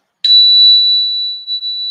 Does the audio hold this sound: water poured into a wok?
no